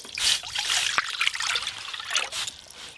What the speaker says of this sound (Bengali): খুদের ভাতের জন্য প্রথমে কোঁড়া জল দিয়ে জল গরম করে নেব